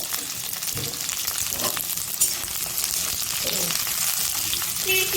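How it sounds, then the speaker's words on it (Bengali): Sliced bitter gourd dropped into plenty of hot oil in a home kitchen gives a bright, loud sizzle with spatter and stirring scrapes, steady and close, with no one talking. "তেল গরম দিয়ে দিলাম উচ্ছে"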